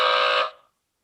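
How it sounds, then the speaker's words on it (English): A podcast host hits a game show buzzer once, a loud, harsh electronic tone lasting about half a second before it cuts off and decays quickly into silence. "I just wanted to ring the buzzer anyways"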